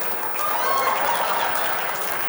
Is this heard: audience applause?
yes